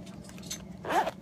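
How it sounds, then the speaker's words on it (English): The zipper on a real zebra-hide zip pouch knife case is pulled in one short, close rasp that stands out over a low room hum. "It's a very special zip pouch case."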